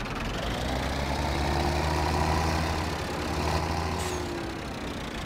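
A steady, low tractor engine idle from a farming video game, a Massey Ferguson, rumbles continuously with a deep, even drone and no other sounds.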